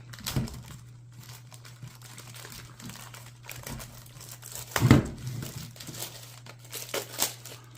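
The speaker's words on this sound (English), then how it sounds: "Let's bust open this plastic." Plastic packaging around a GardePro trail camera being torn and crinkled open by hand, irregular crackling bursts and rustles with louder crunches near the middle and end, over a low steady hum.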